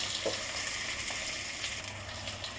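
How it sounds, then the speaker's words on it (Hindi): Spices and ingredients fry in a pan for a Jitiya fast-breaking thali, making a continuous bright sizzle close by with faint stirring touches underneath, no talk. "ये अच्छी तरह भून रहा है।"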